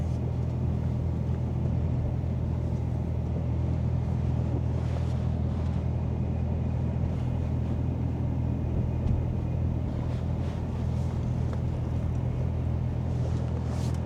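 A used Hyundai Ioniq electric car with 166,000 km climbs a small 12% hill under full throttle, giving a steady low cabin rumble of road and tyre noise, constant and unbroken with no talk.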